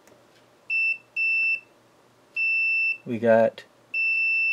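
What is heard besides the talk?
multimeter continuity test beep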